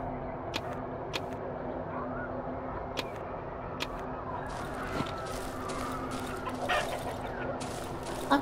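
Chickens cluck softly in the Darkwood video game, scattered low clucks amid sharp clicks, footsteps and a steady ambient hum, with a noisier stretch near the end.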